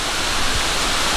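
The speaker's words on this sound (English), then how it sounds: "And that was the waterfall" Raven Cliff Falls in Georgia pours between two cliffs, a loud, steady broadband rush of falling water with no other sounds.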